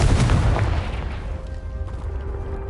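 The Confringo explosion spell in the Hogwarts Legacy video game goes off in a single heavy booming blast that rumbles and fades over a couple of seconds.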